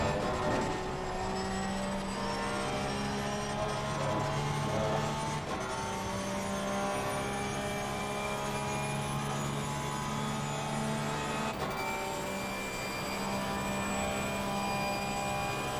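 A race car engine screams at full throttle in the sim racing game Assetto Corsa Competizione, a loud, sustained high-revving tone with sharp drops at gear shifts, heard alone without talk.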